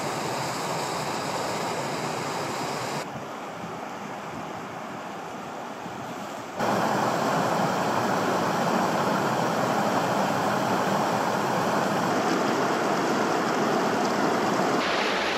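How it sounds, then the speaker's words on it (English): Steady, broadband rushing of flowing water fills the scene with no voices, growing louder and fuller partway through as the flow comes closer. "The sound of that river is just absolute bliss."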